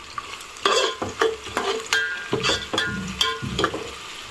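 Onions frying in oil with curry leaves and bay leaves while a spoon stirs them, giving steady close sizzling broken by repeated loud scraping strokes in an irregular rhythm, with no talking.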